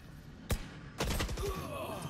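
Two sharp gunshots in a shooter video game, one single crack followed half a second later by a short burst of rapid shots, fairly loud against quiet background.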